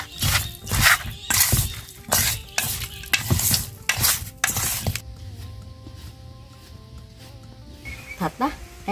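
Marinated meat is stirred in a pan with sugar, seasoning, minced garlic and shallots, giving a run of loud, rhythmic scraping and sizzling strokes. The stirring then gives way to quieter kitchen sounds with a low hum.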